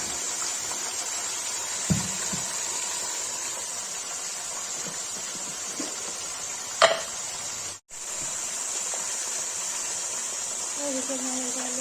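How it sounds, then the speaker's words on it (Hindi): Mutton pieces frying in a pan with salt, a steady soft sizzle and hiss running throughout, broken by a few brief clinks and scrapes and a short gap near the end. "मटन फ्राई के लिए रख दिया है, उसे नमक डाल के इसको ढक देंगे।"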